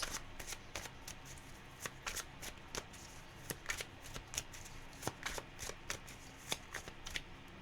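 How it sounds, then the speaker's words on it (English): A tarot deck being shuffled by hand, close and quiet, with a quick run of crisp, irregular card riffles and taps. "Normally when the deck does that, it's time for me to stop shuffling."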